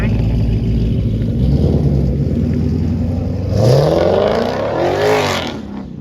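Twin-turbo Mustang accelerating hard at a Cars and Coffee meet, its engine rising from a low rumble to a loud, close, brief roar, with crowd chatter and voices heard underneath.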